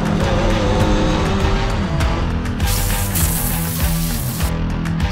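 A Ford truck takes a 180-degree hairpin turn on rough terrain, its engine loud and close, revving and straining steadily throughout the turn with no talking.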